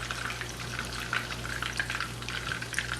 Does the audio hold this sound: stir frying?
yes